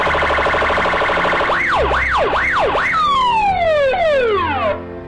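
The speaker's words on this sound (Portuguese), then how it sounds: "Apita a sirene aí!" A municipal civil guard patrol car siren sounds loud and close, first a fast pulsing yelp, then several rising-and-falling wails, then long descending sweeps before it cuts off abruptly.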